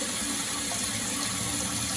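Water rushes steadily into a toilet tank, a continuous hissing gush with no breaks, alone and fairly close.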